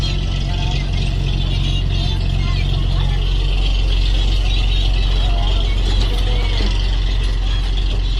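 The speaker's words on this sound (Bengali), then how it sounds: "আমাদের লঞ্চ ছেড়ে দিচ্ছে" The engine of a launch boat drones steadily as it departs on a Sundarbans sightseeing trip, a loud continuous low rumble with faint voices mixed in underneath.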